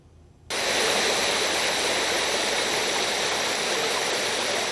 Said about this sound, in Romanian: Căzând de la o înălțime de 6-7 metri, apa pârâului a format o minunată cascadă în două culori